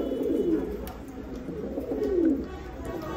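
Red Lahori fancy pigeons coo up close, with two low, rolling coos rising and falling over a steady murmur of the loft.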